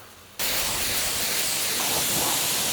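IK Multi Pro 2 pump sprayer firing a steady, loud, close hiss of spray that starts abruptly and holds unbroken to the end.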